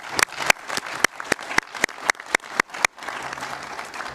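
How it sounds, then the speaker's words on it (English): An audience applauds a chorus at a board of administration meeting, with a steady patter of close, sharp individual claps that thins into a softer, looser spatter toward the end. "how about another round of applause for our chorus?"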